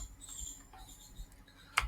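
Fingers type code on a computer keyboard, a soft uneven patter of key presses ending in one sharper, louder click.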